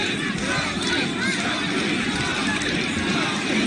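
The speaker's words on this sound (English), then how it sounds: "Crowd chanting Chunky, trying to rally behind James DeGale." A boxing arena crowd chants Chunky behind James DeGale in his fight with Chris Eubank Jr, a dense, loud, sustained roar of many voices filling the hall.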